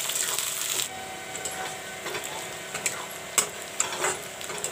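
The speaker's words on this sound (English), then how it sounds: "Put in the chopped, cut up onions. I will let the onions turn golden brown." Chopped onions frying in a pan with bay leaves for a chicken dhaniya curry, giving a soft continuous sizzle with occasional stirring clinks and scrapes, close and moderately quiet.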